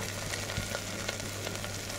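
Red masoor lentils fry quietly in a pan, a soft, even sizzle with faint stirring clicks over a short stretch.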